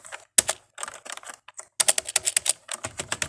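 Rapid clicking keystrokes on a computer keyboard while JavaScript code is typed, close and crisp in quick bursts with brief pauses between words.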